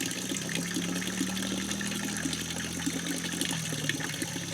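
Water from an off-grid cabin's water source spills and splashes steadily for several seconds, a continuous broadband rush with no talk over it.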